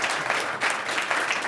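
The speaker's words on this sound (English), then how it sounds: "Everyone clap for SAIT." Audience clapping on a live energy panel, a dense, even patter of many hands at moderate level filling the short moment without talk.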